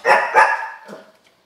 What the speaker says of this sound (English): Again. These dogs, man.